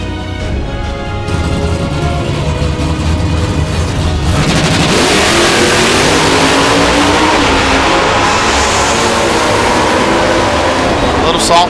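A drag racing car at the NMCA All Star Nationals screams at full throttle, its engine bouncing off the rev limiter in a loud sustained roar, with a commentator talking over it.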